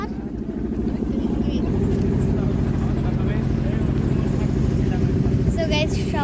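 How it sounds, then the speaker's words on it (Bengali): Steady low droning engine of a trawler boat on a pleasure trip, running loud and continuous throughout, with faint voices in the background. "আমরা এখন ট্রলার ভ্রমণ করছি।"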